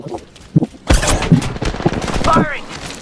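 Rapid bursts of Apex Legends gunfire crackle in quick volleys while a person talks over them, the shots loud and close.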